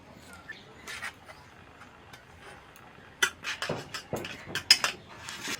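Utensil scraping and tapping against a pan while raw mango amsotto mixture thickens, quiet at first, then sharper clinks and scrapes in quick irregular bursts.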